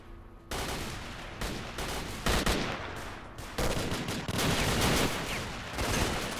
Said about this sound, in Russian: Где-то тут стреляет.